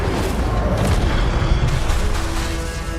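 A burst of spell fire from the Incendio charm in the Hogwarts video game roars as a loud, dense whoosh lasting about three seconds with no speech over it.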